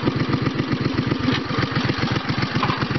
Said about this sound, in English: And that idle is just beautiful.